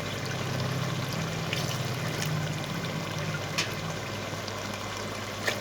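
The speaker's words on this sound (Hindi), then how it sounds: "तो ये मैंने हाफ़ कप इसके अंदर पानी ऐड कर दिया।" Half a cup of water poured into a cooking pan of potato and spinach, a steady close pouring trickle lasting several seconds with no talking, under a low hum.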